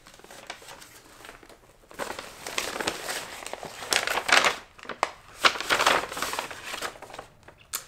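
A paper envelope is handled and crumpled up close, starting with quiet rustles, then loud crinkling and crushing bursts with sharp crackles before it settles.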